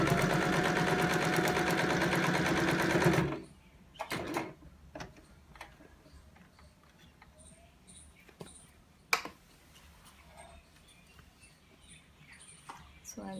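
A sewing machine runs steadily for about three seconds while stitching a Christmas table mat, then stops, leaving faint clicks and small handling noises.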